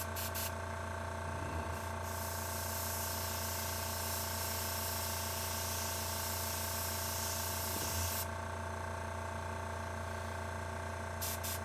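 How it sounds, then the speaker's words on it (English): Airbrush spraying paint onto a sculpture gives a faint, continuous airy hiss that runs steadily through the whole stretch, with a low background hum and no talk. "I already have everything out on the airbrush doing the other stuff."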